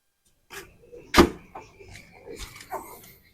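The trunk of a Chevrolet Spin is opened with a sharp latch clunk followed by softer thumps and rattles of the hatch lifting, close and alone.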